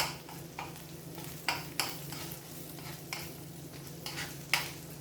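Chorizo frying in a hot pan, a quiet continuous sizzle broken by several sharp scraping stirs of a utensil against the pan.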